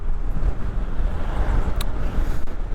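Wind rushing past a motorbike rider on a forest road in Wayanad, Kerala, a steady loud low roar and buffeting throughout with no talk.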